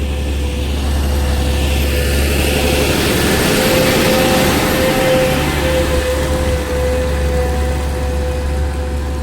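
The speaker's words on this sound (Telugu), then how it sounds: "ఇంకో లారీ వస్తుంది." A loaded lorry engine laboring up a steep hill road in Odisha, a loud, steady low drone that swells slightly midway, heard without speech.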